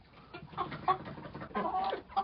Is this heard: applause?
no